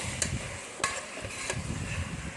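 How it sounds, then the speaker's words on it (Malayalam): Beef masala gets stirred and mixed in a pan, with a few distinct scraping spoon strokes over a soft, continuous sizzle of frying, heard close and alone. "ഇനി ഇതെല്ലാം കൂടെ നന്നായി മിക്സ് ചെയ്ത്"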